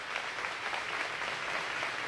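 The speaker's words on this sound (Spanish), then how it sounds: "están brindando con este emotivo y fuerte aplauso su último adiós" Mourners at the 1994 funeral of racing driver Osvaldo "Pato" Morresi give a long, steady round of applause in farewell, a dense wash of clapping from a large crowd outdoors in the rain, continuous and even throughout.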